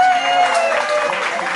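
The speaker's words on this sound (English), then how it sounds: "let's give a big round of applause for Raymond Thomas" Audience clapping at a gallery exhibition opening for Raymond Thomas, a brief steady wash of applause from a nearby crowd with a tonal hum underneath.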